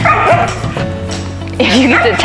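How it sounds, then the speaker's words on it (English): Several dogs bark and yip nearby in two loud bursts, with a whimpering whine between them. "Oh, the dogs are gonna get going."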